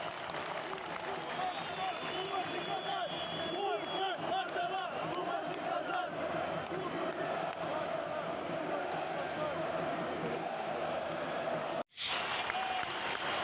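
A stadium crowd at a Fenerbahçe versus Kayserispor match applauds and chants as the Fenerbahçe players come over, a dense continuous roar of clapping and voices with a brief dropout near the end.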